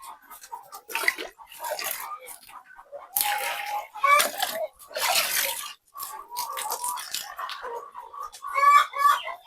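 Laying hens on a layer poultry farm cluck and squawk in short, overlapping bursts at close range, a busy chorus of many birds with some scratching and shuffling between calls.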